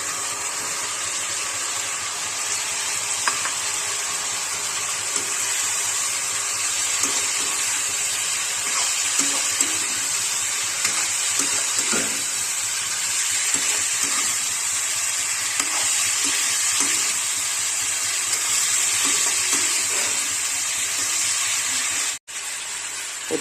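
Pre-fried chicken pieces for chilli chicken added to a hot pan, a steady loud sizzle of frying with scattered clinks and stirring scrapes, one short break in the sound near the end, no talking.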